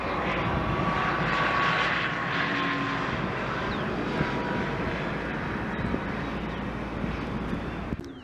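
Electra hybrid electric aircraft making a short takeoff on a runway, its engine and propeller drone loud and steady, swelling early then holding with wind rumble on the microphone.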